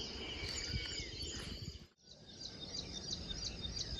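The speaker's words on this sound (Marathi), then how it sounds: "पक्ष्यांचा आवाज सकाळी सकाळी खूप छान वाटतंय हे बोरीच्या झाडावर एवढे पक्षी आहे" Birds chirping in a jujube tree on a cool village morning, with soft, overlapping tweets and calls at a distance over faint background hiss, with a brief dip midway.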